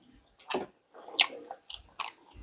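A person eating seafood chews and bites close up, with a few separate crunchy, moist bursts and short quiet gaps between them.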